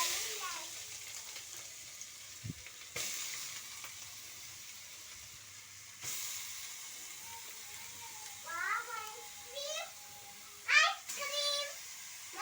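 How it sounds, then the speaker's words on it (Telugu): Half a kilo of grated carrot and beetroot sizzles softly in a kadai for halwa, a low quiet frying hiss with occasional stirring, while someone talks over it. "క్యారెట్ మొత్తాన్ని ఇలా కడాయిలో వేసేసి"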